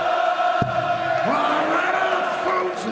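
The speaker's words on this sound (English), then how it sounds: "And the crowd starts singing his name." A darts crowd at a Champions League match chants a player's name in unison, a loud sustained sung chant filling the arena with rising and falling tones.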